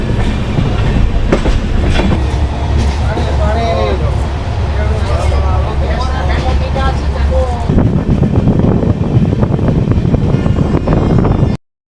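Rolling rumble of the 22974 Puri–Gandhidham weekly superfast express heard from on board, steady low noise with faint clatter, and a voice speaks over part of it before the sound drops to a heavier, rougher rumble near the end.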